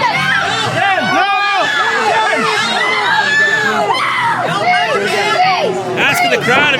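A packed indie wrestling crowd shouts back in loud unison over a steady babble of voices and excited cries, the chants rising and falling in repeated bursts throughout.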